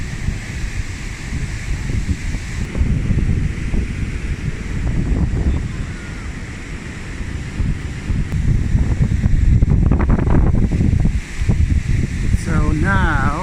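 Sea waves crash against the shore beside the Hassan II Mosque in Casablanca, a steady loud wash of surf with wind buffeting the microphone and a voice talking over it.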